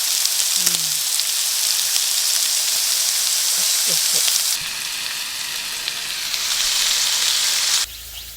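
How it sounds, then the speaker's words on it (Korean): Thick pork belly sizzles and crackles steadily as it grills over an outdoor fire, a continuous close fatty hiss with brief faint voices near the start. "삼겹살 굽는 ASMR 소리가 침샘을 자극시키기에 충분해 보인다"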